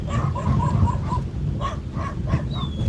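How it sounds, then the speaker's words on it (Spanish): Mastiff guard dogs barking repeatedly at a cattle pasture, a run of regular barks followed by scattered further barks and a brief high whine, moderately near over a steady outdoor rumble. "Ya empiezan los mastines"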